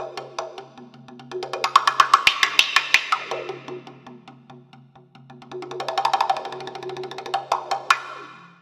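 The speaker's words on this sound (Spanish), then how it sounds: "he utilizado un efecto de Touch Wah" Rapid acoustic drum hits through a Yamaha EAD10 touch wah effect that opens deeper and louder with harder strikes, in two busy bursts with a quieter gap between.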